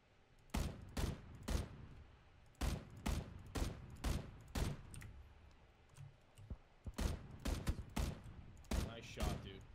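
Gunshots in the battle royale game PUBG, about a dozen sharp cracks fired singly and in quick pairs, loud and close, with a faint voice underneath.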